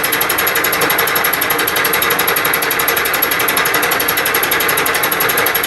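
A Bridgeport milling machine fly cutting runs steadily, a loud, close, continuous whirring buzz with a rapid high-pitched rhythmic tick from the spinning cutter, unbroken by speech.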